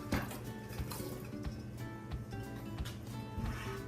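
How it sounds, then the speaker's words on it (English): Chickpeas tumble into a pot of simmering vegan chickpea-mushroom curry, soft splashes and clinks against the pot over a quiet bubbling background, repeated several times in a loose rhythm. "So in goes the chickpeas."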